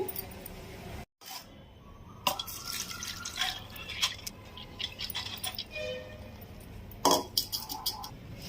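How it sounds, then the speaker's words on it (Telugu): Soaked moong dal sits in a kitchen strainer as the water drains off. Intermittent drips and small splashes patter at close range over a soft background, with a few sharper bursts. "ఇలా 1 అవర్ నానిన తర్వాత దీన్ని మనం స్ట్రైనర్లో వేసి వాటర్ మొత్తం వడకట్టుకుందాము"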